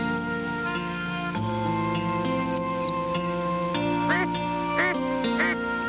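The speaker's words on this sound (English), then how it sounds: "The hen is calling her ducklings." A hen duck calls to her newly hatched ducklings in the nest, with repeated quacking notes heard over a steady background of layered tones.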